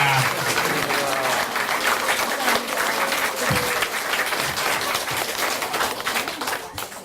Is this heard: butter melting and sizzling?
no